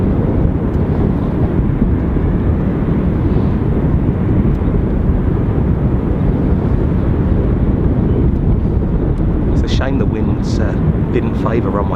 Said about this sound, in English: So, inbound from Faro, EasyJet Europe, an Airbus A320.